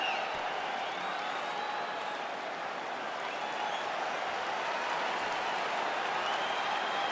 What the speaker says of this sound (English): an appreciative capacity crowd on its feet as this next round gets underway